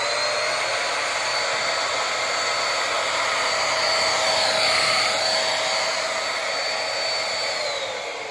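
A corded vacuum cleaner runs with its roller attachment fitted, giving a steady, close, high whine that swells slightly midway and holds on alone throughout.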